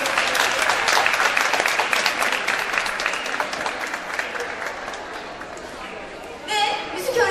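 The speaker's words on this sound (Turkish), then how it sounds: "Hepsine kocaman bir alkış istiyoruz." An audience in a school hall applauds at a high school spring concert, steady dense clapping from a large crowd that gradually thins, then swells briefly again at the end amid light chatter.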